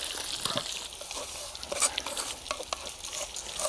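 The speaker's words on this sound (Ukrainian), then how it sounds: "Повертаю сковорідку на вогонь." Pork sizzling in a frying pan over a fire, a steady crackling hiss with sharp pops and bursts of spatter, close and fairly loud, with no talking.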